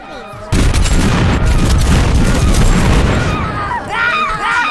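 Grenades go off in Totally Accurate Battlegrounds as a loud, sudden burst of explosive booms and crackling debris. The blasts last several seconds and then fade, with a voice briefly heard before and after.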